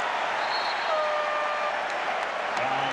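Basketball arena crowd at the 1993 NBA Finals Bulls versus Suns Game 3 gives a steady, loud roar and applause throughout, with a brief tonal whistle or horn near the end.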